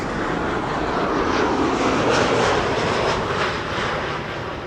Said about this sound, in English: No, it's the the A350 1000 Cathay Pacific